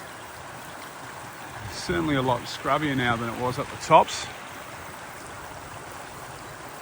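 Steady broadband rush of a mountain creek flowing in a scrubby canyon, constant and moderately loud, with someone talking briefly over it.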